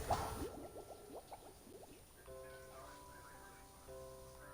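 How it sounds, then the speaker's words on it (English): Bubbling water in a Minecraft soul sand water elevator, a burst of quick gurgling pops at first, then softer steady bubbling with a faint tonal hum beneath. "So when you put soul sand underwater, the souls like leak out air and push bubbles up."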